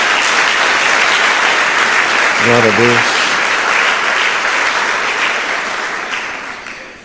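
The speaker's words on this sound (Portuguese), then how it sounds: "Dê mais uma salva de palmas ao Senhor." A church congregation gives a loud, sustained round of applause, with a voice briefly speaking over the clapping partway through before it fades out at the end.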